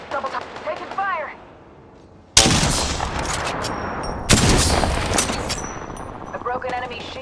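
Bursts of Apex Legends gunfire erupt loudly in two sharp onsets, each followed by sustained rattling shots and crackling impacts, with a short quiet gap before the first volley and game voice callouts around it.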